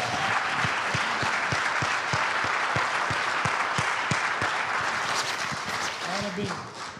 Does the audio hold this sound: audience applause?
yes